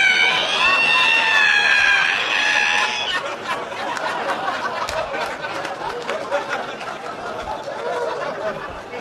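A voice imitates a squeaky ironing board being opened with a long, high, wavering screech, followed by a crowd's laughter and chatter.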